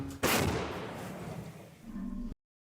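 Artillery fire aimed at a Russian tank: one sharp, loud blast hits suddenly, then its rumble rolls out and slowly decays over about two seconds before cutting off.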